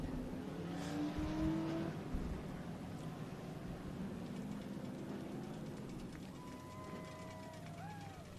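A modified race car at Tucson Speedway runs its victory lap, engine droning steadily at a distance with a faint whine and shifting pitch, soft and continuous across the oval.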